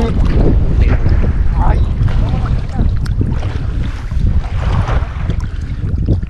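Strong wind buffets a fishing boat at sea off El Salvador, a loud, steady roar of gusts and microphone rumble with water and hull noise beneath, faint voices briefly mixed in.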